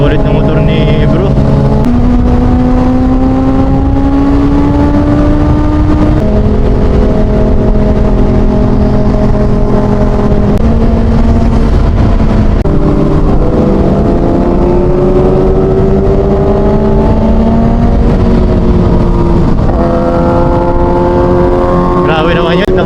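A Kawasaki ZX6R sport bike on a ride in Zambales drones loud and close, its engine pitch climbing and dropping through gear changes beneath constant heavy wind rush.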